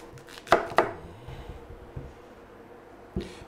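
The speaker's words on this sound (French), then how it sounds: "on coupe en deux tout simplement pour avoir une surface plane, pour ne pas se couper" A knife chopping a peeled celeriac on a cutting board: two sharp thuds in quick succession, a quiet pause, then one more firm chop near the end, heard up close without talk.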